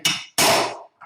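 Hammer stamping letters into soft stainless steel, two sharp loud metallic strikes close by, followed by a faint brief tap, with no talk.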